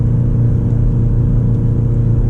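A 2024 BMW X5 M Competition engine rumbles and swells during a manual downshift, a loud, low, close drone that holds steady.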